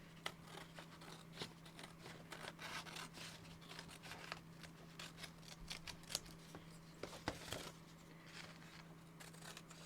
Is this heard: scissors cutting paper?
yes